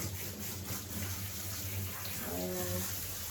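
Tap water runs steadily as shampoo is rinsed off a cockerpoo during grooming, a constant close gushing stream that carries on throughout.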